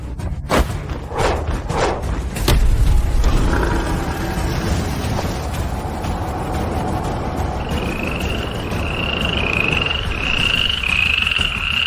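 Frog croaks used as a sound effect in a martial-arts fantasy drama, repeated bursts over a busy mix with thuds and booms early on, rising tonal calls later.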